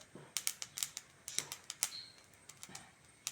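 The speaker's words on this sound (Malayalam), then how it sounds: "നമ്മുടെ കടുകും ഉലുവയും പൊട്ടുന്ന സൗണ്ട് കേൾക്കുന്നുണ്ടോ?" Mustard seeds and fenugreek crackle as they roast in a pan, giving off a quick, irregular string of sharp little pops, faint but close, with no voices.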